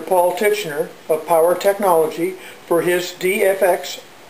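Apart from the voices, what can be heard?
None of the usual background noises is heard.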